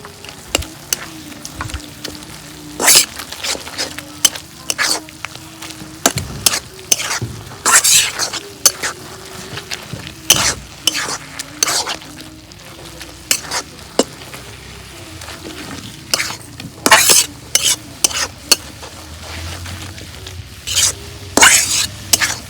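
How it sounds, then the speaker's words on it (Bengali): Eggs stirred in a frying pan, a soft sizzle under repeated clicking and scraping taps of a spatula against the pan, with low murmured voices in the background. "এখন আমি ডিম দুটো দিয়ে এখন নাড়াচাড়া করব, নাড়াচাড়া করে মিক্স করে দেব।"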